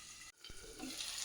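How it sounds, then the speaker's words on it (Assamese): Eggplant and tomato frying in a covered pan, a steady soft sizzle with a brief stirring scrape near the start, close and quiet with no talking. "এইসমূহ অকণমান মই ঢাকনা মাৰি ভাজিম,"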